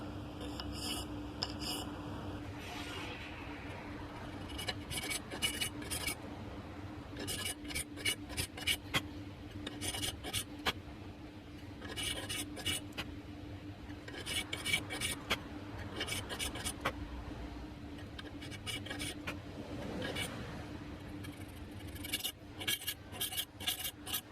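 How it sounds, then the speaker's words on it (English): Metal file rasping along a dovetail saw blade toward a scribe line while making a dovetail gents saw, in repeated bursts of short strokes separated by brief pauses, close and moderately loud over a steady low hum. "And just very carefully file down to the scribe line."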